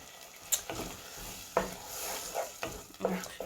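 Vegetarian black-eyed pea stew simmering in a pot after water is added, a soft bubbling sizzle with a few spoon scrapes and knocks at irregular intervals, close and fairly quiet.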